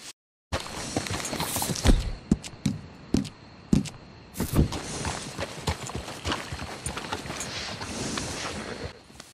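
Steady clip-clop of a Brindle Thoroughbred horse's hooves walking on a hard surface in Red Dead Redemption, close and rhythmic, with a faint continuous background hum.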